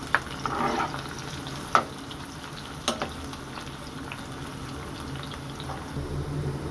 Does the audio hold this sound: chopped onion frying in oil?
yes